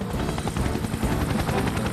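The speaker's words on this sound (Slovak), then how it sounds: "Tom priletí na helikoptére." A cartoon helicopter flies in with a steady, loud rotor chop and engine drone throughout, close and continuous, with no voices over it.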